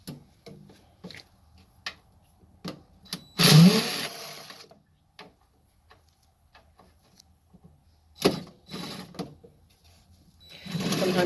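Screws being backed out of the shroud of an Amana PTAC unit with a power driver, heard as short whirring bursts near 3.5 s, 8.3 s and 11 s, separated by quiet handling clicks and small taps.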